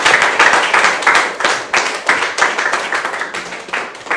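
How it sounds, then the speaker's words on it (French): Congregation at a Sunday church service clapping together in a steady rhythmic beat, many hands close and loud, with no talking over it. "Applaudissons au Seigneur pour glorifier le Seigneur."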